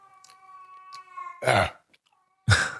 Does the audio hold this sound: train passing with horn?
no